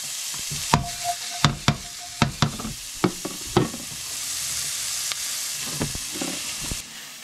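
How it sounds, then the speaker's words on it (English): Garlic and onions sizzle in oil in a pan, a steady frying hiss broken by a series of sharp clacks as a utensil stirs and scrapes, close and fairly loud. "Don't you love to hear that sizzle?"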